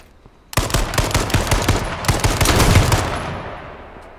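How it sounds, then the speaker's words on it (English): A rapid burst of game gunfire, loud and close, many shots in quick succession, then fading into a lingering echo. "Hearing all those gunfire shots."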